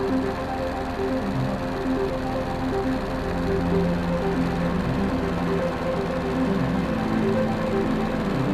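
Microlight aircraft engine droning steadily in flight over Malta, a loud, continuous buzzing hum with a constant pitch and no pauses.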